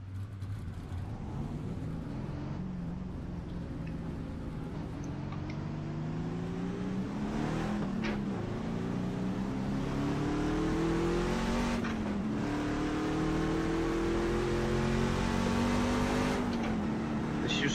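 Pickup trucks racing in the iRacing sim during an oval open practice session, a continuous loud engine drone with repeated rising and falling revs as trucks power through laps, steady throughout.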